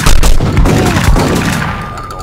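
Loud bursts of gunfire from the video game 25 to Life, rapid overlapping shots and booms filling the whole clip with dense, close automatic fire.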